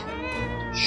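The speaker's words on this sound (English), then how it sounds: "We got a cat?" A house cat meows in the survival video game 60 Seconds!, a single drawn-out, harmonic cry lasting under a second, close and clear over a faint game background.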